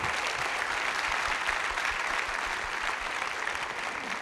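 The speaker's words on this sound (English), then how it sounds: "give a round of applause for the most beautiful state in India" A large conference audience breaks into sustained applause, an even, continuous roar of many hands clapping at moderate distance throughout, with no voices standing out.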